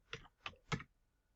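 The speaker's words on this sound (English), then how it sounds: "Whoops, my bad typing, I'm sorry." Three quick, separate clatters of typing on a computer keyboard during a music lesson setup, close and fairly soft, with quiet gaps between them and no talking.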